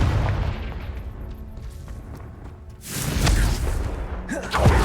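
Confringo blast spells detonate in Hogwarts Legacy, making deep booming explosions with rumbling debris. A quieter stretch is followed by a heavy blast and a sharp final burst, with no talk.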